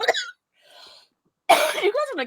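A person on a podcast coughs in short, harsh bursts, one at the start and a louder fit after a pause, running into excited vocal sounds.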